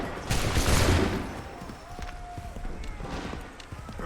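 Musket volley in the Assassin's Creed III video game, a broad burst of overlapping shots early on, then scattered thuds and hoofbeat-like clatter under shouted voices.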